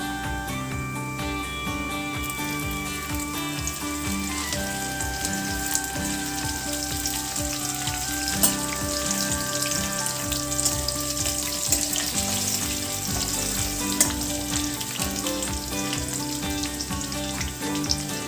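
Green chillies and garlic frying in hot oil, a loud continuous close-up sizzle that holds steady throughout, with occasional faint stirring.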